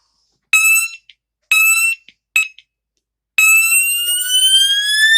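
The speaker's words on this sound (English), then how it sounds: "how you hook up a fire alarm with no panel, no pull stations, no smoke detectors, just the horn strobe and 9-volt batteries" A fire alarm horn strobe running on 9-volt batteries sounds three short, loud, piercing electronic blasts with gaps between them, then a longer continuous blaring tone, close and alone.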